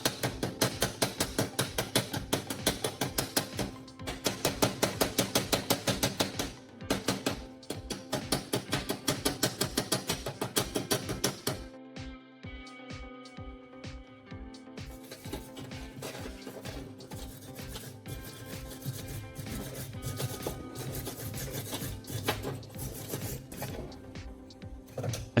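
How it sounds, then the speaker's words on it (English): A hammer and brush clean a spot weld made with a converted soldering iron, giving a long run of rapid, regular mechanical tapping and scraping. It drops to sparser, quieter strikes midway, then continues steadily. "Now I will use a hammer and brush to clean the weld."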